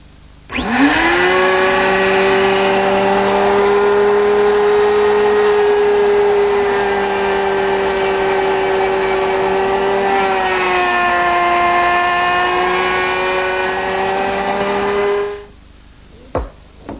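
A power tool plunge-cuts a mortise about 1.25 inches long into a wooden plant-stand leg: a loud, steady whine starts abruptly, holds for roughly fifteen seconds with a slight pitch drop midway, then cuts off, followed by a couple of small knocks.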